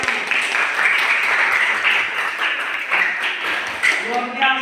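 Classroom applause from students at a junior high school (SMP Negeri 7), steady dense clapping filling the room for several seconds, with a teacher's voice faintly mixed in.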